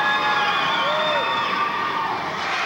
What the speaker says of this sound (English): Great crowd here tonight. You can hear them in the background here.